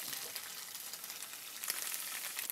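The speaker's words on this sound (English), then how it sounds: "let's start with frying off our beautiful tofu. Get that nice and crispy." Steady crackling sizzle of tofu frying in a pan, dense and continuous with brief brighter pops, no voices.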